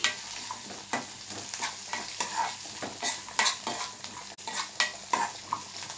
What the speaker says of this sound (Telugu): డ్రై ఫ్రూట్స్ని ఎక్కువగా ఇష్టపడని వాళ్ళు ఈ విధంగా అన్నీ కొన్ని వేసుకొని ఫ్రై చేసుకోవచ్చు